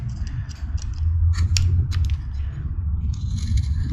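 Sharp knife carving a face into wood, with close, crisp scraping and slicing strokes coming in short bursts over a low background rumble.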